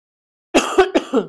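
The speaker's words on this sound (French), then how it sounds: "Je tousse." A few short, harsh coughs close up, three or four bursts in quick succession after a moment of silence.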